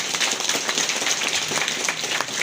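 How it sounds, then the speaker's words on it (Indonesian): A crowd claps for a candidate at a PDIP party branch inauguration during a political rally, producing dense, continuous applause that fills the space from start to finish. "Tepuk tangan untuk beliau."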